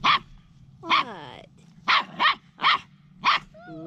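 Standard Schnauzer puppy at play giving six short, sharp barks and yips in an irregular rhythm, close and fairly loud, with a brief whine in between.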